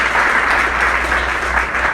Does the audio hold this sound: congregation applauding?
yes